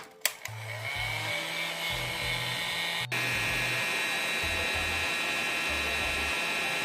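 A heat gun blows with a steady, loud whirring hiss while shrinking heat-shrink tubing over a soldered wire joint during RC boat setup, after a click switches it on.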